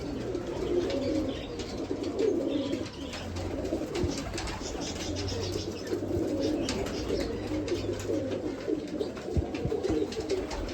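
Yellow pigeons coo continuously at a bird loft, their low, repeated cooing layered close and steady, with occasional chirps above it.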